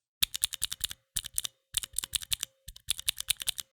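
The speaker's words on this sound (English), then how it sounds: "They're also pretty loud, and this is what they sound like." Typing on a Mantistek GK2 budget RGB mechanical keyboard with loud, clicky tactile switches: four close, rapid bursts of sharp clacking keystrokes separated by brief pauses, with no talking.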